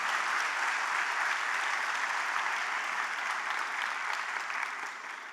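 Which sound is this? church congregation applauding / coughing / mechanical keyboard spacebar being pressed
church congregation applauding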